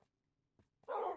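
Dogs in the Minecraft FTB modpack game let out a short burst of barking near the end, loud and close, after a few faint yips over a quiet background.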